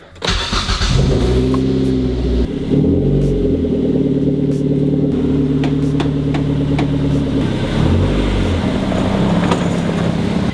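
A lowered Mazda 3 on new coilovers pulls away with a mid-pitched engine note that rises and falls through several revs. The car is close and loud, and nobody talks.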